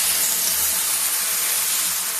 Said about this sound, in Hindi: अब इसमें हम इसी समय डाल देते दूध।